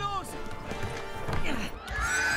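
A horse in the Lego Lord of the Rings video game neighs and clip-clops amid game music and effects, with someone speaking German over it.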